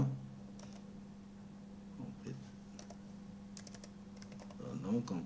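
Someone types on a computer keyboard with a few scattered faint clicks over a steady low hum, quiet and close, with a soft voice briefly at the end.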